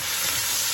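Eggs and vegetables with chili stir-frying in a hot pan, a steady close sizzle with constant hiss and faint scraping of stirring throughout.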